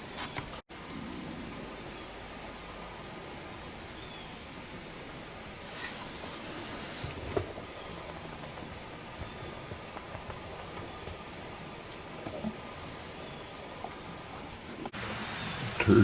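Steady rain falls in the woods during early deer season, a soft continuous patter close around the listener with a few slightly louder drops and rustles.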